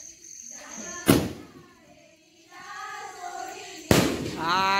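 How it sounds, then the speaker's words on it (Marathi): Two firecrackers burst outdoors on a Ganpati festival night, each a sharp, loud crack a few seconds apart, with faint background voices and tones between them. "मी दिवाळीला सहसा फटाके लावतच नाही, गणपतीलाच."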